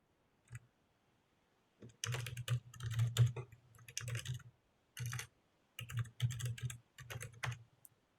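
Typing a username and password on a computer keyboard, close and fairly loud, in several bursts of rapid key clicks separated by short pauses, with no talking.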